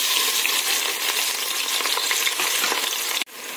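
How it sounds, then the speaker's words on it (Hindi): Two large chopped onions sizzle and fry in hot tempering oil for Hyderabadi chicken dum biryani, a steady close crackle with light stirring, ending in a sudden dip near the end. "हमारी प्याज अच्छे से फ्राई हो चुकी है"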